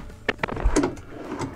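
A drawer in a 2017 Heartland Bighorn 3270RS fifth-wheel RV slides open or shut, giving a few short wooden knocks and a soft rolling slide, close and moderately loud, with no talking.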